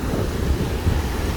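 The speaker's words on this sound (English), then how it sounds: "Atlantic Ocean in Florida, Boca Raton," Wind and Atlantic Ocean surf on the beach at Boca Raton, Florida, a steady low rumble of breaking waves mixed with gusty wind buffeting the microphone, continuous with no voices.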